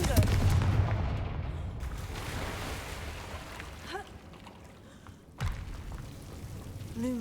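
Confringo blasting spell cast in Hogwarts Legacy, a booming explosive burst at the start followed by rumbling game ambience, another sharp blast near the middle and a voice speaking briefly.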